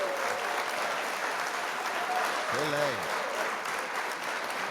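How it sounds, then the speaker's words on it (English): Steady, dense applause from a gathered audience for producers and beat makers at a podcast artist spotlight, continuous throughout with a short voice rising briefly over it midway. "I want to clap it up for y'all for that."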